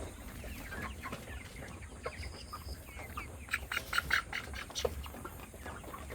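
Broiler chickens in a farm shed make soft, scattered clucks and short squawks while they are being caught, over a low background hum, with no voices.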